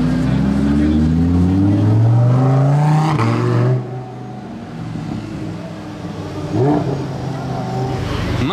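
A Ferrari Daytona SP3 Carbone drives past on the streets of Monaco during the Formula 1 Grand Prix weekend, its engine revving loud and close with rising and falling pitch before fading into the busy ambient rumble.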